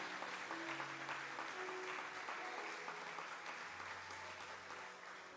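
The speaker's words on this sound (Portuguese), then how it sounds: "aplauda o nome dele" A church congregation applauds steadily during a celebration service, with faint sustained musical tones beneath the clapping, which eases slightly toward the end.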